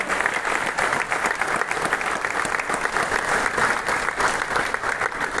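Loud, sustained audience applause at an Asian Games 2023 medal celebration in Hangzhou, a dense wash of clapping from a large crowd that holds steady throughout without a break.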